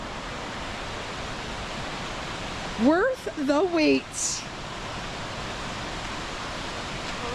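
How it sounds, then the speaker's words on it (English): Steady broadband rush of Mok Fa Waterfall in Pai, Thailand, filling the whole stretch at an even level, with a short burst of someone talking briefly over it in the middle. "Here's the waterfall."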